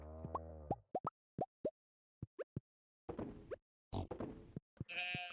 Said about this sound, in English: Do you like my sheep? I'm starting my sheep empire